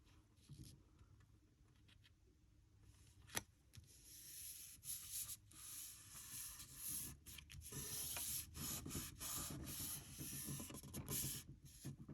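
Glued paper being rubbed down onto a handmade Mother's Day card, a close, dry, continuous scratchy rubbing that swells louder and more insistent in the second half, with no voices.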